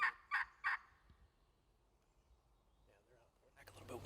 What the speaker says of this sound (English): strike up some turkeys, sound like they're a pretty long ways away